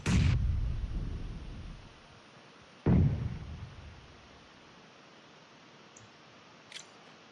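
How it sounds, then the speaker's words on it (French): Two sharp, loud blasts from grenade explosions in PUBG Mobile on the Miramar map, about three seconds apart, each trailing off in a low rumble, followed by a small faint pop. "Attention, grenade qui arrive."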